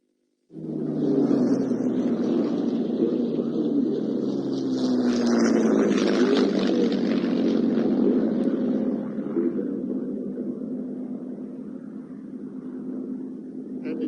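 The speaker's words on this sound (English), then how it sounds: "the sound of the aircraft" A P-51 Mustang and a Messerschmitt fly past at an airshow, a loud continuous piston-engine drone that swells and slowly fades over many seconds, heard at a distance without talk.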